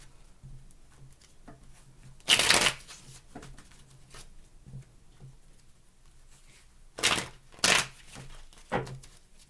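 Tarot cards being shuffled by hand come in short riffling bursts, one loud burst early on and a cluster of several bursts later, with soft handling taps and quiet pauses in between.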